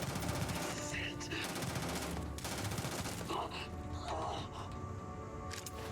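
Rapid gunfire from a firefight in the space RPG Starfield, dense bursts of shots layered over a continuous game soundscape with music-like tones, loud and sustained throughout.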